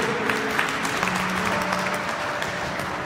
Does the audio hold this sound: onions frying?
no